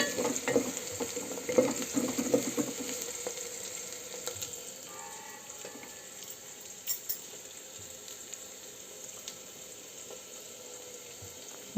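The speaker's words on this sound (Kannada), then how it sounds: "ಸ್ವಲ್ಪ ಫ್ರೈ ಆಗಿಬಿಟ್ರೆ ಸಾಕು ಈರುಳ್ಳಿ." Onions fry gently in a pan for a mushroom and potato curry, a soft, steady sizzle with a few light stirring taps, louder at first and then settling quieter, without any talking.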